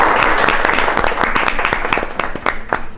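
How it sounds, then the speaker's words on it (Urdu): An audience applauds at a cake cutting, a loud burst of close hand clapping that carries on steadily for the whole stretch, with a few louder individual claps. "چلیں جی تالیاں بجا دیں"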